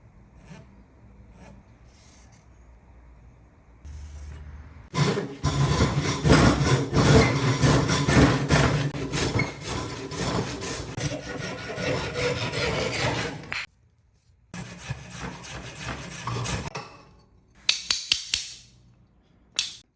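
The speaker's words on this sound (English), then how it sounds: "I'm gonna cut this piece of wood into blanks and then go from there." A saw cuts through a piece of East Indian rosewood to make knife handle blanks, loud rough rasping strokes for about nine seconds. Quieter scraping comes before it, then a pause, a shorter burst of sawing and a few sharp clicks.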